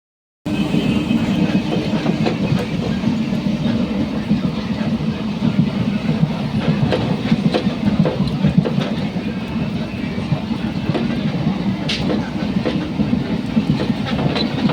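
Moving train heard from inside a carriage with passengers aboard, a loud continuous rumble with rhythmic clickety-clack of wheels on rail joints, close and steady throughout.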